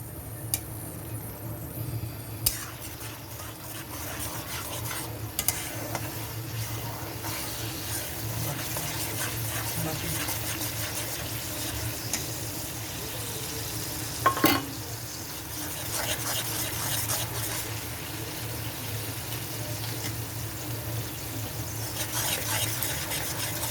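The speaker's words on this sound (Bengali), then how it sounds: "পেঁয়াজটা ভালোভাবে আমি ভেজে নিব" Blended onion paste frying in a wok, a steady close sizzle running throughout with occasional stirring scrapes and clinks of a utensil against the pan.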